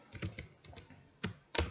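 Keys on a computer keyboard are tapped close by in short, irregular clusters of clicks, with brief pauses between them and no talking.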